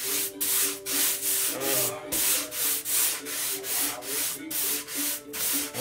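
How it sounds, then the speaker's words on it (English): Sandpaper rubs back and forth over the tacky finish on the wood of a soprano ukulele body, giving rhythmic, close, even strokes that repeat about once every half second. "What I'm going to do is start sanding this"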